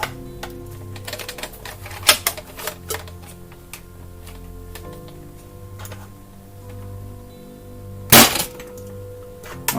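Modified Nerf Kronomag 2 blaster firing darts: a series of sharp, close clicks and snaps at an uneven pace, with one louder crack near the end and no talking.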